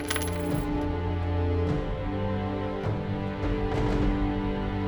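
Coins jingling in an animated Indian folk tale as a pumpkin is sold to a vegetable seller for coins, a bright metallic clink at the start over steady, loud background music.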